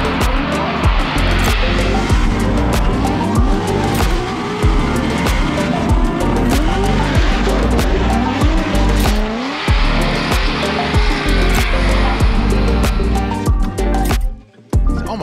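Formula Drift car on practice runs, a loud, continuous engine roar with screeching tire squeal, close and sustained throughout, cutting out briefly near the end.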